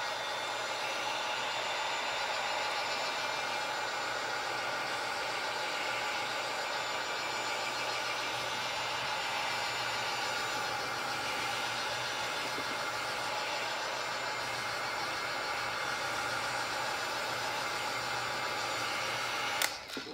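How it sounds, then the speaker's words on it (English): A handheld heat gun blows hot air in a steady, even whoosh with a faint motor hum, close and continuous, over a glued craft build, ending with a small click. "let's go ahead and hit that with a heat gun now"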